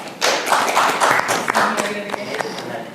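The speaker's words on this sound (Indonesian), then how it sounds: "Tepuk tangan buat Jesslyn." A small group claps for a speaker on a church-ministry podcast, a short burst of fairly close, distinct hand claps that starts suddenly and thins out toward the end.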